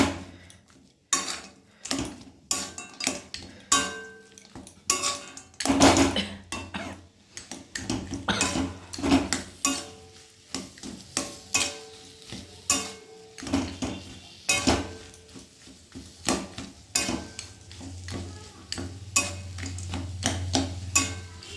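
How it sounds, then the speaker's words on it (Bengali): A metal spoon scrapes and knocks around a pot of curry after peanuts in their shells go in, giving a steady run of close, irregular clinks and scrapes for the whole stretch with no talking. "এই যে বাদামটা দিয়ে আবার একটু নাড়াচাড়া দিয়ে নেব"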